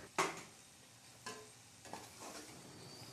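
Noodles stirred in a pan, three or four faint scraping and tossing sounds spaced about a second apart over a quiet low sizzle.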